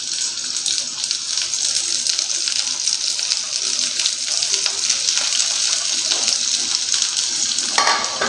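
Onions frying in hot oil for a Bengali posto dish give a loud, dense, continuous sizzle with a brief flare of extra spitting near the end; no voices.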